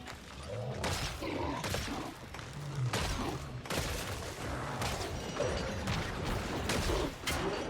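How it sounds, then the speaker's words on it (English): Gunshots in Killing Floor 3 on Hell on Earth difficulty, a dense run of repeated shots and thuds over constant loud game noise with no clear pauses. "Three shots on the face."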